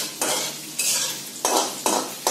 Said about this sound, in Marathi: आता तेल कडलेलं आहे, कांदा टाकला तेलामध्ये.